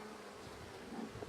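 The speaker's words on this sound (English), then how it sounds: "I've got bees on these frames over here." Honey bees buzz on beehive frames during hive work, a steady, soft, droning hum of many insects heard close up and alone.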